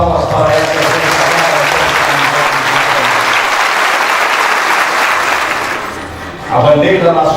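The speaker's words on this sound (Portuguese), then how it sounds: "pedimos uma salva de palmas para esta" Applause from the audience at a Brazilian military tribute ceremony, sustained and dense for about six seconds, then fading out as a voice begins speaking.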